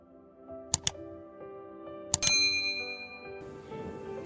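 A bright notification bell dings twice in quick succession, then rings again more loudly with a shimmering tail that fades over soft background music.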